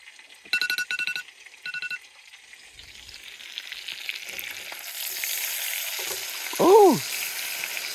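A small steak sears in a pan over a camp stove, a soft sizzle swelling gradually louder, preceded by a few short electronic beeps and later a brief higher tone.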